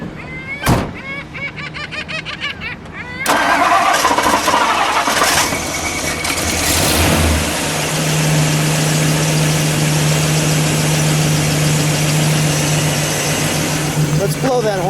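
A 1964 Ford Galaxie 500XL engine cranks briefly, then catches and roars up with a rev before settling into a steady, loud idle that holds close by for the rest of the stretch.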